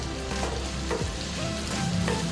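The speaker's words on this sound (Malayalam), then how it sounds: "ഇനി ഇതിലോട്ട് തക്കാളി ഇടുക" Tomatoes fry in a pan for Kerala-style prawn theeyal, a close, steady sizzle with a few faint utensil clinks and no talking.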